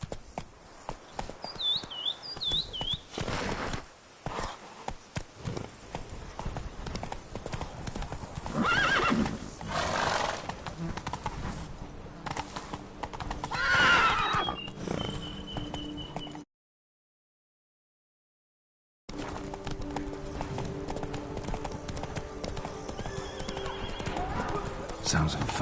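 Roach the horse in The Witcher 3 galloping, hooves pounding steadily up close with a whinny, accompanied by game music and character voices and broken by a short silent gap.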